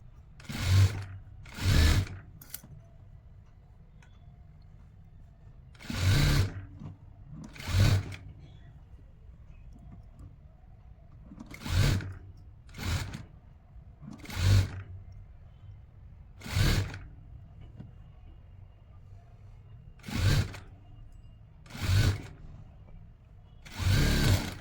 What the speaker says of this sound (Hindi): प्रॉपर इस तरह से सिलाई दे देंगे